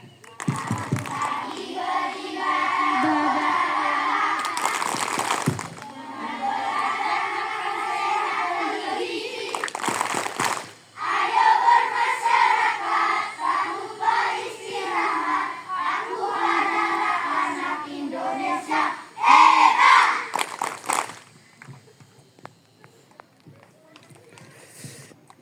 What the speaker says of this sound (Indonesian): Nah sekarang kita buat yel-yel 7 kebiasaan anak Indonesia hebat ya.